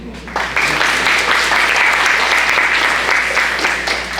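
An audience at a school board meeting breaks into applause for students who spoke, loud steady clapping that starts sharply and fades slightly toward the end.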